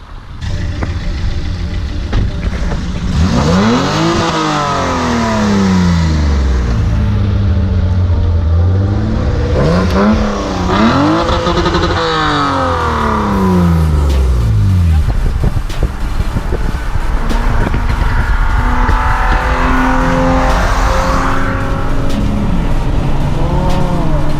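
A BMW E30 320 revs hard and accelerates in a roll race, its loud engine note climbing and falling in repeated sweeping pitch rises, with wind buffeting the microphone throughout.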